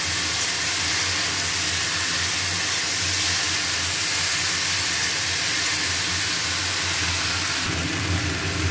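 Vegetables frying in a pan with ginger, cumin, salt and turmeric, giving a steady, loud, continuous sizzle and hiss throughout with no talking.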